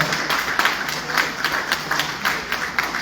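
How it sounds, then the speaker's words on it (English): Audience applause for District 2 candidates at a Democratic Party primary candidate forum in Perry County, Alabama, steady moderate clapping from a crowd, heard at a middle distance and unbroken for a few seconds. "Please give our District 2 candidates a round of applause."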